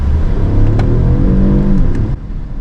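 A 1.5-litre car engine revs up and settles back down close by, a throaty mid-range rumble rising and falling once, with no voices.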